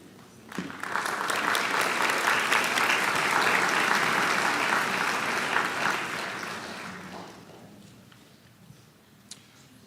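An audience at a school awards night and national honors ceremony applauds students, clapping rising quickly to a full steady roar, holding for several seconds and then tapering off into a few scattered claps.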